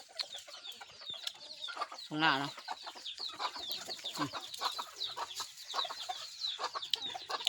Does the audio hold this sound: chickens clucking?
yes